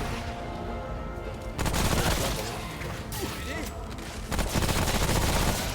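Rapid gunfire from a video game, dense bursts of shots filling the scene at a steady loud level, with a voice speaking over parts of it.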